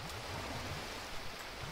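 Steady, rushing water in a video game fills the whole moment with a dense, even hiss like a stream or heavy rain, close and continuous with no voices over it.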